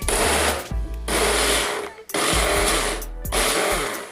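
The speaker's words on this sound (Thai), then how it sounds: "นำส่วนผสมที่เราเตรียมไว้จัดใส่เครื่องปั่นเลยนะคะ" A kitchen blender whirs loudly while blending dessert ingredients, running in three close, harsh bursts with brief pauses between them.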